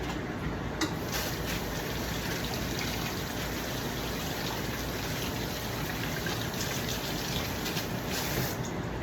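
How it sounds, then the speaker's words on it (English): Tap water runs steadily into a sink while hands are washed, a continuous close hiss and splash that stays even throughout, with no voices. "let me wash my hands."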